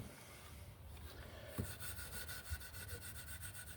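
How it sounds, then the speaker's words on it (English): Fine wire wool rubs furniture oil into a wooden candle holder, a close, steady scratchy back-and-forth scrubbing with a couple of small knocks, heard alone without talk. "to get it into the cracks and all the way through, what I like to use is some fine wire wool"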